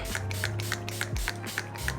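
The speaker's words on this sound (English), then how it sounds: "Let's spray it down" A rapid series of short bursts of setting spray onto a face, about eight quick pumps in an even rhythm, close and fairly quiet.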